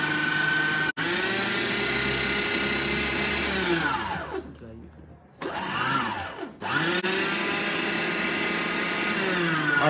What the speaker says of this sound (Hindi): आटा शाटा बनाने के लिए और इस तरह काम के लिए यूज होता है मिक्सर